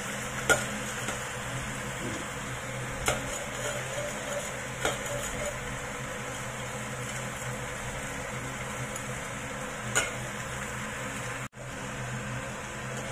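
Sugar caramelizing with pork for bao buns in a pan gives a steady, even sizzling hiss that runs throughout, broken by a few light taps and scrapes of stirring.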